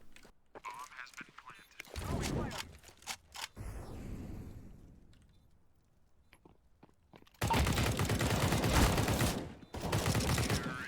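Bursts of automatic gunfire from a shooter video game on the Mirage map, loud dense volleys near the start and end, with sparser shots and quieter game noise in between.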